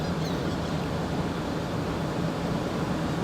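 Ocean surf rolls steadily onto the beach at Port Aransas, Texas on a hazy day, a continuous broadband wash of waves with no talking.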